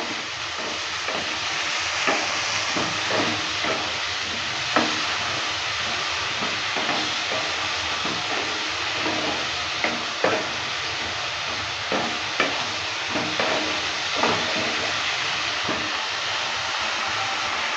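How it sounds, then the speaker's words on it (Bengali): A paste of chili, onion, garlic, ginger and tomato fries in a pan for a prawn and taro curry, giving a loud, constant steamy hiss punctuated by regular clicks and scrapes of stirring, with no speech. "এবার পেস্টটা ঢেলে দিচ্ছি। পেস্টটা দেওয়ার পর ভালো করে নেড়ে নিচ্ছি।"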